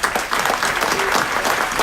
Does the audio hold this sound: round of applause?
yes